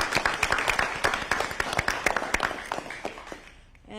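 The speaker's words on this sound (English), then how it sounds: "So let's give them all a round of applause." An audience claps at a mayor's news conference for a community center and library, a dense burst of applause that is strongest at the start and then thins out and fades.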